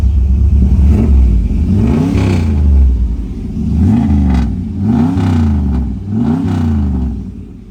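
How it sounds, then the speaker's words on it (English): A 1970 Chevrolet El Camino with a boosted engine revs hard several times, each loud throttle blip rising and falling close by, with steady idle rumble between the revs and no talk. "Let's go give this thing a rev."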